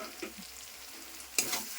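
Potato and tomato vegetables frying in oil, a soft, quiet sizzle with a couple of small stir taps and a brief louder surge of frying near the end of the short moment.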